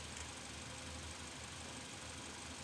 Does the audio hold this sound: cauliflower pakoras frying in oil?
no